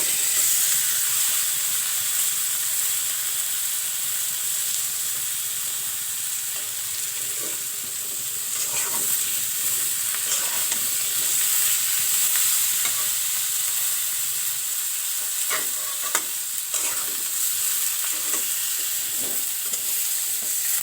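Flat beans and new potatoes frying in a pan hiss in a continuous loud sizzle, with occasional scraping knocks as they are stirred.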